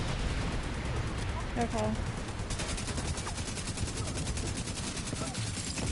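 Gunfire in Division 2 rattles in rapid automatic bursts, dense machine-gun chatter with sharp repeated cracks over a rumbling combat backdrop, steady and close throughout, with a brief spoken word from a player.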